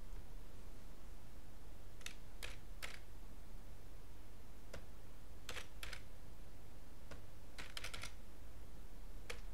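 Card details being keyed in on a computer keyboard: short bursts of crisp key clicks, some single taps and some quick clusters, separated by pauses over a quiet steady hiss.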